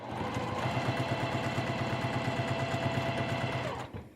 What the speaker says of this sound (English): So here we are at our machine, and we are just going to sew down using a 1/4 inch seam allowance.